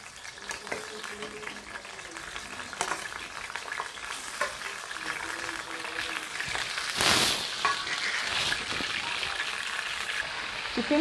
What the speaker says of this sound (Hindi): चिकन हाफ फ्राई करेंगे।